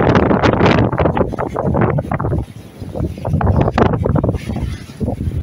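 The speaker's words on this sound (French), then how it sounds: "Mais, petite surprise, le vent qui est bien monté assez fort." Strong wind at sea, roaring steadily and loudly across the microphone during a solo sailing passage from the Marquesas to the Tuamotus, with gusts swelling and easing over a broad rushing noise and no talk.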